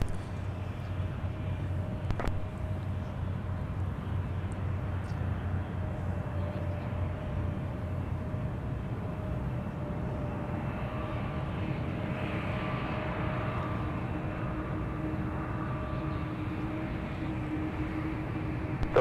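Heavy Delta airliner pushing back at Minneapolis–St. Paul airport, a steady low jet engine drone with a faint whine, continuous and moderately distant throughout.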